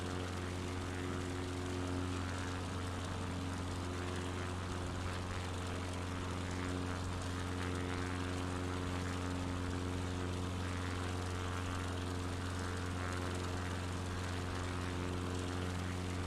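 A propeller airplane engine in a video game drones steadily while climbing, a constant layered hum with stable harmonic tones and no change in pitch, fairly faint and continuous.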